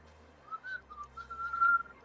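A person whistles a short wavering tune on their own, moderately close and fairly quiet, with a low hum underneath.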